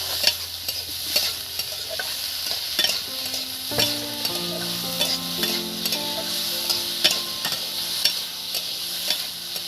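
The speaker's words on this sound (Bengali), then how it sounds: "এই পেঁয়াজটা না বন্ধুরা খুব ভাজার দরকার নেই" Onion and tomato frying in a pan for masala dosa filling, a constant close sizzle broken by regular scraping stirs of a spatula, with a faint tonal hum in the background.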